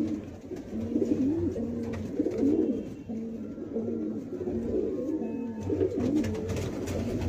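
A fancy, well-coloured female pigeon coos close by in a rhythmic, repeating rolling call. A low hum of the surroundings sits underneath, and no one speaks over it.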